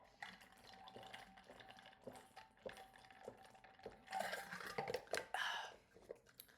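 Water being poured and drunk at a desk: soft clinks, trickling liquid and a few gulps and swallows, close and fairly quiet, with no talking.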